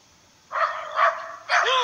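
A frightened dog gives a few loud, close barks and yips in two bursts, the second rising into a whimpering whine.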